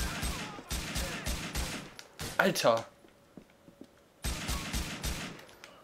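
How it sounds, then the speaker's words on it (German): Rapid gunfire bursts in the video game GTA IV, loud rattling volleys at the start and again near the end, with a man's exclamation in the quieter gap between them. "Ja, wir brauchen gar nicht so viele Schüsse."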